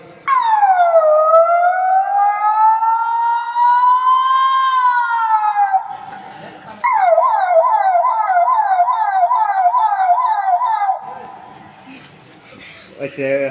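A human voice imitates an ambulance siren, loud and close: a long rising-and-falling wail, then a rapid yelping warble, ending with a brief pause and a short burst.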